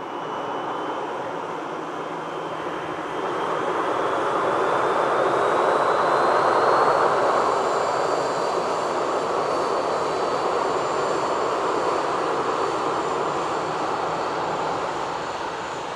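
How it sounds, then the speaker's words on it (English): An Airbus A350 jet engine in wet conditions gives a loud, sustained roar with a rising buzzing whine, building after a few seconds and holding steady. "We usually do have some nice engine sounds on the A350s when it's wet conditions."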